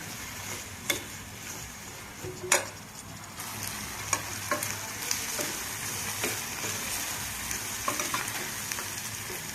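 Onions with salt frying in a pan for a prawn and ridge gourd egg curry, a steady close sizzle broken by sharp ticks and scrapes of stirring.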